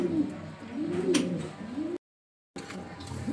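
A pair of racing homer pigeons coo in soft, rolling repeated calls close by, the low throaty phrases rising and falling, with a brief dropout of silence partway through.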